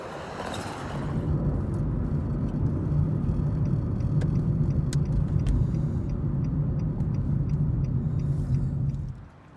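Car driving along Lake Herman Road in the Bay Area, a steady low road rumble of engine and tires that fades in and holds close and constant for nearly ten seconds, then drops off at the end, with no talking.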